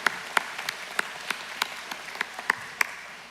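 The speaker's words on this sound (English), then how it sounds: "Can we give Chairwoman Lewis Payton another round of applause?" Applause from a commencement audience at Talladega College, a dense roomful of clapping with a few sharper claps standing out above the steady patter, moderately loud and sustained throughout.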